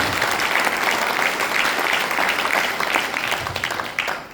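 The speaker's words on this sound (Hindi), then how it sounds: "जबरदस्त तालियां होनी चाहिए, जबरदस्त।" Dense audience applause at a network-marketing seminar led by a chemistry lecturer, steady and loud across the whole stretch with no talk over it, thinning slightly at the end.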